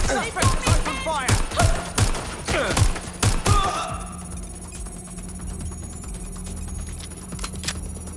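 Gunfire in the video game Watch Dogs: Legion, a rapid series of loud sharp shots with ringing tails over about four seconds, then a quieter lingering hum with faint scattered clicks.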